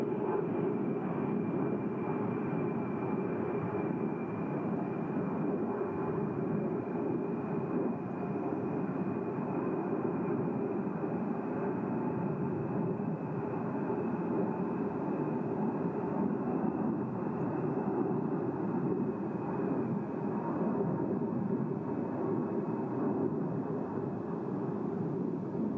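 A military jet flight making a low show-of-force pass at the 2022 Selfridge open house air show: a loud, steady, broadband engine roar that holds evenly for the whole stretch with no talk over it.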